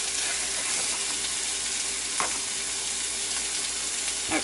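Steady sizzle of onion and garlic frying in a pan for a chicken quesadilla, a constant close hiss filling the whole stretch with one faint clink partway through and no voices.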